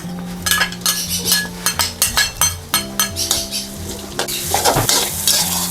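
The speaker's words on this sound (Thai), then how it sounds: "แล้วใส่สามเกลือของเราลงไปผัดพร้อมกับเห็ดหอมนะคะ" A paste of garlic, coriander and black pepper stir-fries with shiitake mushrooms in oil in a wok, with a steady sizzle under repeated sharp metal scrapes and clinks of the utensil against the pan.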